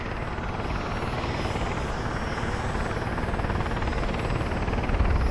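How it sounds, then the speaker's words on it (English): A helicopter's rotors keep turning near volcanoes on the Kamchatka Peninsula, a loud, steady, dense engine roar with rapid rotor chop, close and unbroken, with no talking. "the pilot will keep the helicopter's rotors constantly turning"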